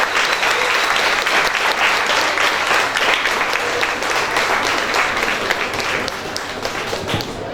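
An audience applauds at the close of a school session on bilingual education, dense and steady clapping that fills the whole stretch and stays loud throughout with no break.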